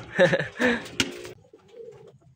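Pet pigeons give a few close, soft throaty coos in quick succession, followed by a quieter, lower murmur.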